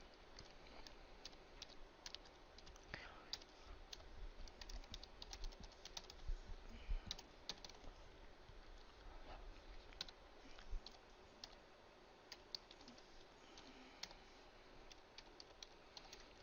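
Code is typed on a computer keyboard in quick, irregular bursts of soft clicks and taps, fairly faint and close, with no talk.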